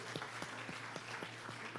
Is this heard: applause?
yes